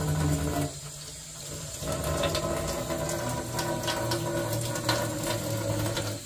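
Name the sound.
washing the air fryer chamber under running water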